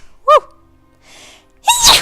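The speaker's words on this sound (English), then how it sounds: "I feel like I need to sneeze." A single sneeze bursts out loud and close near the end, with a short sharp inhale-like vocal burst earlier and a soft breathy rustle in between.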